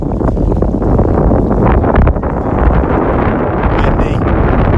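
Loud, constant wind roars and buffets the microphone on a beach in North Naples, Florida, a dense low rumble with brief gusty swells.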